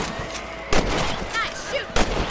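Two loud, sharp rifle shots fired at rabbits in the video game Red Dead Redemption, spaced about a second apart over game ambience, with voices speaking between them.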